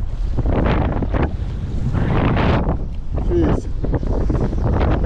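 Strong gusty wind buffets the microphone at a jetty during surf fishing, a loud, roaring rush that swells and eases, with waves beneath and a person speaking briefly.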